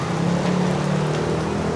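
Rain falling on a road with traffic, a dense steady hiss over a low engine-like drone, loud and continuous for under two seconds with no speech.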